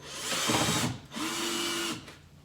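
A power drill driving screws whirs in two bursts, each spinning up, running steadily for under a second, then stopping; close and clear with no talking.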